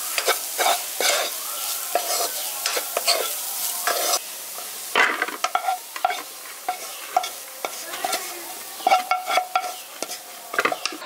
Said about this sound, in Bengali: এখানে খোয়া ক্ষীরটা আমি হালকা করে ভেজে নিয়েছি, কালারটা চেঞ্জ হয়ে গেছে।